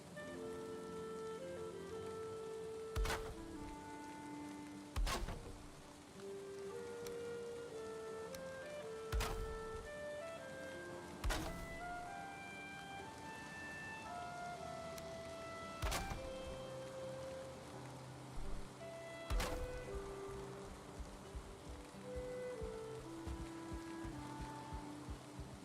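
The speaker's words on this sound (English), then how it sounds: "Of course, it's looking very different because it's being rained on, and the rain destroys building materials until it has a roof over it." Rain falls in the survival game Valheim, a quiet continuous patter on surfaces behind soft game music, broken by several sharp loud percussive hits spaced a few seconds apart.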